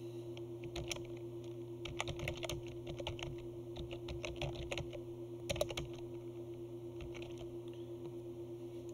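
Fingers type on a computer keyboard in quick, uneven bursts of close, crisp clicks, with a brief pause between runs over a steady low electrical hum.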